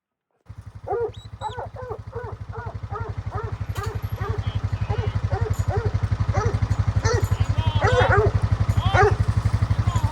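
A farm dog on a sheep farm barks in a rapid, repeated string of sharp yips, close and loud over a steady low engine drone that runs throughout.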